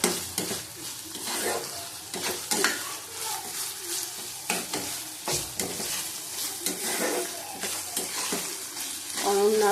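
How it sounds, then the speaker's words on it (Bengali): Ghugni of peas and egg fries in oil in a pan while a spoon stirs and scrapes it repeatedly, making a close, continuous sizzle broken by irregular stirring strokes. "আবার ভালো করে ভেজে নেব"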